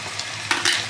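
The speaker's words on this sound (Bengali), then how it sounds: "এবার দেখো আমি আলুটা ভাজছি" Potatoes fry in oil for a dish with prawns and pointed gourd, a faint, close sizzle with a couple of brief, brighter bursts of spitting.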